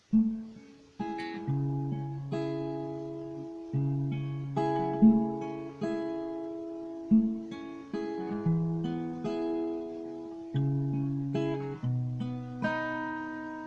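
An acoustic guitar is fingerpicked, a low bass note plucked with the thumb under rolling higher strings, chords ringing out in a relaxed repeating pattern.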